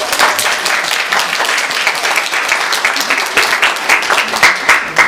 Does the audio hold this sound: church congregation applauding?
yes